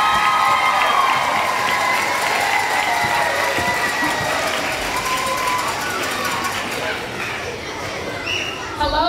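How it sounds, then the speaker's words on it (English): An elementary school audience at a Battle of the Books event cheers and applauds for Jefferson School, a loud steady crowd roar with shouting children that continues throughout. "And let's applaud for Jeffrey School."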